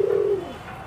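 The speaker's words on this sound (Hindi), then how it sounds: "गाइस तीन कबूतर उड़ रहे हैं" Pigeons flying high overhead, heard as a single soft cooing call that fades out within a second, fairly faint with no other sound around it.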